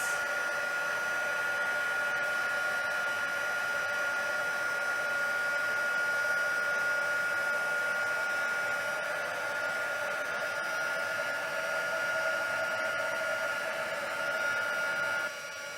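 Steady hot-air rush of a craft heat tool melting embossing powder on a metallic birthday card, a loud continuous whirring blow with a faint tonal whine, running unbroken close by before dropping slightly at the very end.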